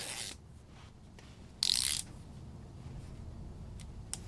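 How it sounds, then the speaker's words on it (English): A ratchet with a 9/16 socket winds a threaded rod inward in a tight engine room, one short loud burst of clicking, then low quiet mechanical noise. "We'll go ahead and wind this threaded rod all the way down until we touch the shaft."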